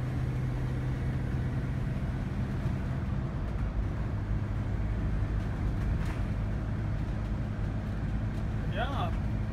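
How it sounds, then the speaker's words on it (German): A 2019 Bürstner Ixeo i744 motorhome drives along, giving a steady low road and engine rumble inside the cabin that continues throughout, with a person talking over it. "jetzt fahren wir in unserem Ixeo i744"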